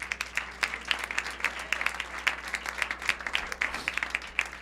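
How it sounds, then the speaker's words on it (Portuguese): A congregation at a Sunday church service claps steadily, many hands together in a dense, sustained round of applause that fills the space. "Dá uma salva de palmas para Jesus."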